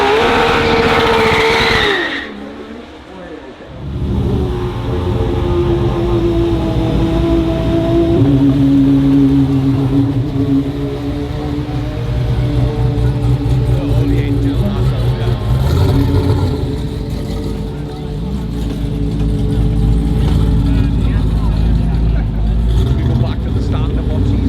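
A Kalmar Automotive 700 with a Mercedes-sourced engine (1,063 horsepower, 11,000 RPM) drives past at the Goodwood Festival of Speed, a loud engine roar rising and sustaining, with a commentator talking over it throughout.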